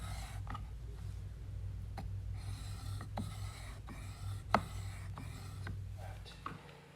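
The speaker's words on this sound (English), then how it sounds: "add a little bit of water, and then you can simply hold the chisel flat, and you just want to get that back of your chisel" A steel chisel slides back and forth on a wet diamond whetstone as it is flattened, giving repeated soft scraping strokes with a few sharper ticks over a low hum.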